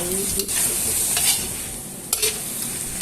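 Bamboo shoots and red curry paste with fish sauce stir-fried in a hot pan for a Thai pork dish, a steady close sizzle broken by a few sharp scrapes and clacks of the spatula, no talking.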